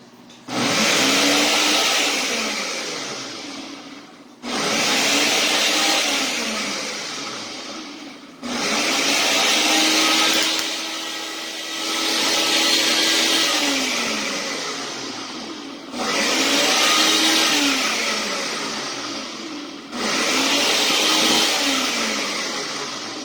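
A countertop blender whirs loudly through an almond bread mixture in repeated pulses of about four seconds each, the motor pitch rising at each start and sagging as the thick mix loads it, with short pauses between runs.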